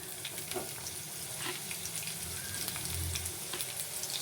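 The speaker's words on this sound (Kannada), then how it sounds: "ಇದೆಲ್ಲ ಚೆನ್ನಾಗಿ ಫ್ರೈ ಮಾಡ್ಕೊಂಡ್ರೆ ಸಾಕು" Spices for egg biryani frying in a pan, a soft steady sizzle with faint stirring scrapes, fairly quiet and free of speech.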